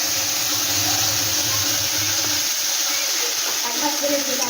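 Spice paste with asafoetida sizzling in hot oil, a loud, steady, close frying hiss that runs unbroken throughout.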